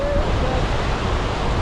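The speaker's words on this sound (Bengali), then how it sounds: "কি সুন্দর সুন্দর ঢেউ।" Sea waves on Cox's Bazar beach in rough weather with light rain fall, heard as a steady, close, broadband roar of surf mixed with wind buffeting the microphone, no clear breaks between waves.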